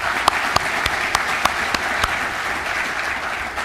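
A crowd at a bowling convention's annual meeting applauds, a steady even patter of many hands with a few sharper nearby claps standing out, and no talk over it.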